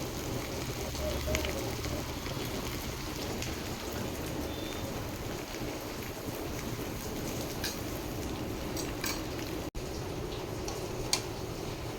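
Potatoes sizzle in hot oil with spices in a pan, a dense continuous crackle at steady level, with occasional ticks and clinks from stirring.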